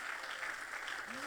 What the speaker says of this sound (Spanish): Alguien tiene que aplaudir al Señor en esta hora.